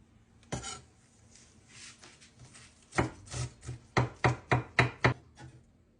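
Crisp knife chops of dill on a cutting board, a few scattered strokes followed by a quick, steady run of about eight close, sharp taps.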